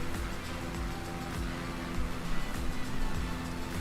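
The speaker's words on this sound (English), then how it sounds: "the Airbus engine sounds are pretty cool." A steady, droning hum of an Airbus airliner engine in Microsoft Flight Simulator 2020, with low rumbling tones and a constant whine held throughout, moderately loud with no talk.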